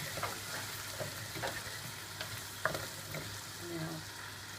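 Tomato puree stirred through a sizzling pan of stifado, a steady frying hiss broken by soft scraping strokes of the spoon, close and moderately quiet with no voices.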